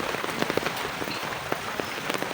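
Rain falling steadily on surfaces outside during a stormy day, a dense continuous patter with scattered sharper drops, heard from indoors.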